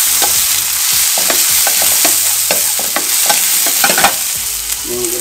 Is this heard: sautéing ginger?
yes